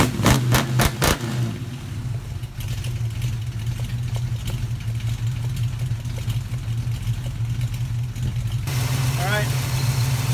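A Plymouth Duster engine with a faulty Holley carburetor idles roughly, a steady low rumble after a few loud clattering knocks at the start; a voice talks briefly near the end.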